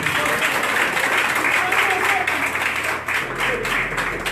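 A crowd at a Haitian opposition gathering applauds the press, steady clapping sustained through the whole stretch and mixed with crowd voices and background noise.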